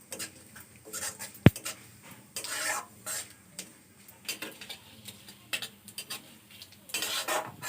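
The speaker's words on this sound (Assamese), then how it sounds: "এইটো মই এইখিনি অকণমান ভালকৈ ভাজি ল'ম ধুনীয়াকৈ" Cumin seeds and a few other seeds frying in a pan for a wild taro (bon kosu) dish, with faint sizzling under sharp utensil clinks and scraping as they are stirred, including one loud knock early on.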